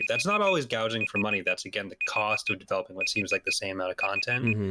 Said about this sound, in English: Sorry for that beeping, guys. That's Google.